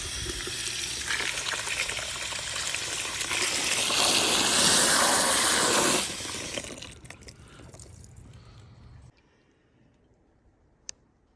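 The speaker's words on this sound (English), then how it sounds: "I'm going to go ahead and rinse these through and put them in, pat them dry or something" Fig cuttings are rinsed under running tap water. A loud, steady gushing spray lasts about six seconds, then thins to drips and trickles and fades to near silence, with a single click near the end.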